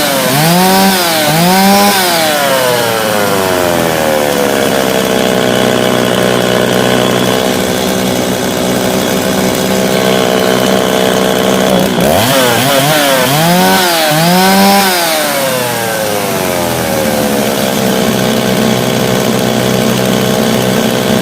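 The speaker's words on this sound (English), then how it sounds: "Let's see how successful we've been in cleaning this carburetor to get this saw up and running again." A Stihl MS260 chainsaw, just back from a carburettor clean, runs loud and close at a steady idle and twice revs sharply up and back down.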